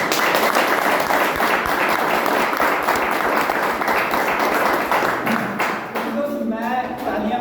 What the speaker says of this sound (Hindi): अगर प्लान आपको अच्छा लग रहा है तो आप उसके लिए तालियां बजा सकते हैं